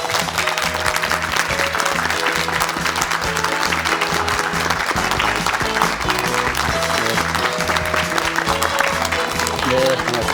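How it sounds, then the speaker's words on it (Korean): A studio audience on a Korean morning TV talk show applauds steadily to welcome a guest, with band music playing underneath and voices mixed in. "박수로 어서 맞이해 주시기"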